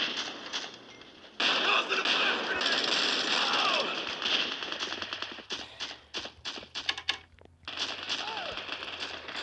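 FAMAS rifle fire in the Bullet Force shooter game rattles out in rapid bursts, some long strings and some short clipped volleys with brief gaps between, mid-distance and fairly loud, with a voice talking underneath.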